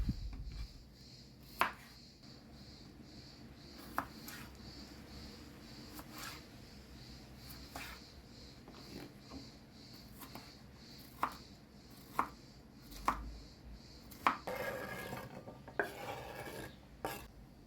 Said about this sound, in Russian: Огурцы нарезаем на небольшие кусочки.